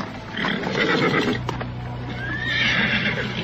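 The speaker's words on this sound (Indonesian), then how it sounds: "2 ekor kuda berderap dan kemudian berhenti" Two horses gallop in with steady clip-clop hoofbeats, then slow and stop, with a whinny near the end, close and fairly loud with no talk.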